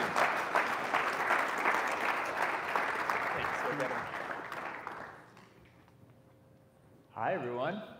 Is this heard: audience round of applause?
yes